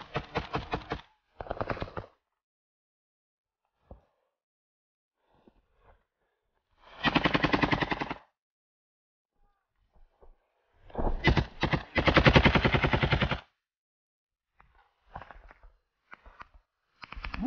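Bursts of automatic rifle fire during combat, loud and close, coming as several separate rapid strings with quiet gaps between them; no speech is heard.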